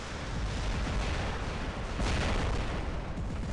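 Thermite heavy weapon firing continuously in War Robots, a dense, steady roar of rumbling blasts with no pauses, loud and close, with a slight surge partway through.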